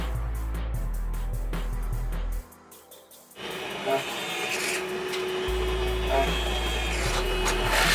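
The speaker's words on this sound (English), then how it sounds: "Drill the holes in the profile according to the instructions." A power drill bores holes in a door profile during door assembly, a continuous rasping, grinding drone that drops away briefly partway through, then resumes louder and steadier to the end.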